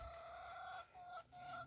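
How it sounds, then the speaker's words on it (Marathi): Hens call in a farmyard, giving a brief sustained, strained clucking cry in two or three pulses, faint and somewhat distant, with no talking. "कोंबड्या ओरडत आहेत, काय करावा."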